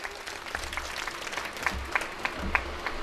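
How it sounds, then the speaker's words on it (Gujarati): Audience at a Hanumanji ashram gathering applauding, a steady patter of clapping hands from a seated crowd with a few sharper individual claps standing out, moderately close and sustained. "તો એ રસોઈના અનુસંધાને પણ આપણે એને તાળીઓથી વધાવીએ"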